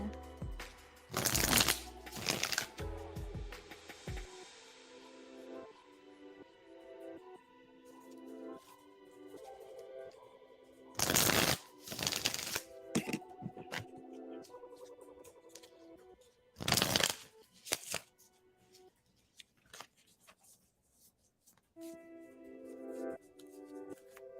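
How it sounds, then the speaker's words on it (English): Tarot cards being shuffled in several bursts of quick riffling and soft sliding, close and intimate, heard over gentle background music with no talk. "I'm shuffling for you now"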